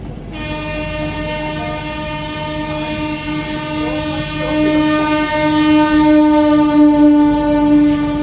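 The Vande Bharat Express 20662 runs from Dharwad to Bengaluru as it enters Yesvantpur Junction. A loud, sustained tonal horn sounds over a low rumble and grows stronger toward the end.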